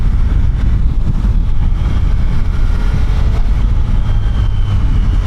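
A Triumph Tiger Sport 800 cruising on surface streets, its engine a steady low rumble under heavy wind buffeting, continuous and close with no talking.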